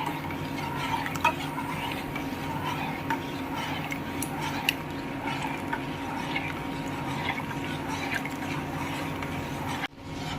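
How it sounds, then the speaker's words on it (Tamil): Vennai puttu flour stirred continuously in a pan over a medium flame, giving a steady scraping hiss with small ticks of the spoon throughout. "இது இப்போ நம்ம கைவிடாமல் நல்லா கிளறிட்டே இருக்கணும், இல்லைன்னா அடி பிடிச்சிரும்."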